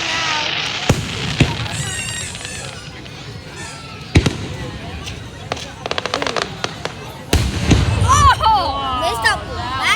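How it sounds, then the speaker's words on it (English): Fireworks burst at an outdoor display with several sharp loud bangs and crackles, amid excited cheering and chatter from a nearby crowd. "Perfect firework."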